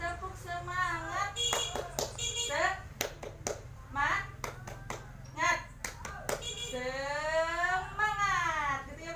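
Group doing rhythmic 'tepuk semangat' clapping, bursts of sharp claps between a woman's chanted speech, alternating talk and clapping patterns in a small room.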